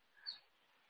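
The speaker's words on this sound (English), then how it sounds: "That's the goldfinch sound right there." An American goldfinch gives a single brief, faint call, a short high chirp standing alone in a quiet setting.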